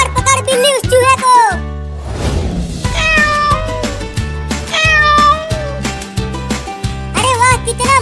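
A cartoon cat meows loudly and repeatedly while chasing a mouse, with drawn-out, wavering calls in quick bursts over a lively, tonal background.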